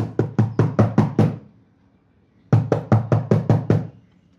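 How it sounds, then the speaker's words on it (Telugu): Knuckles rap on a door in two bursts of about eight quick, evenly spaced knocks each, loud and close, separated by a second of quiet. "ఆ విధంగా డోర్ నాక్ సౌండ్ వస్తున్నట్టు ఉంది."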